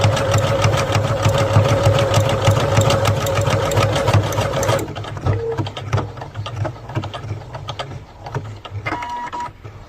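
A Pfaff Ambition 620 sewing machine stitches with a loud, steady, humming whir for about five seconds, then stops for the tie-off and thread cut, leaving softer clicks and mechanical noises.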